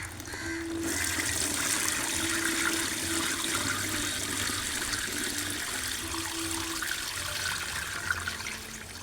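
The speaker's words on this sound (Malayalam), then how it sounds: "ഇനി ഒരു സൈഡിൽ കൂടെ വെള്ളം ഒഴിക്കുക കേട്ടോ" Water is poured steadily onto soil while planting a taro tuber outdoors, a continuous splashing trickle that runs almost the whole time at moderate volume, with faint birds in the background.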